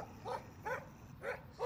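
A dog in the game Life Is Strange barks three times in short, evenly spaced yips, faint and somewhat distant.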